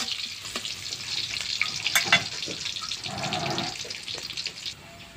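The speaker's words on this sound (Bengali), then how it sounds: "হালকা হালকা করে লাল লাল করে ভেজে নেব" Fish frying in a small amount of oil in a pan, a steady crackling sizzle with occasional clatter of stirring, continuous and close throughout without talk.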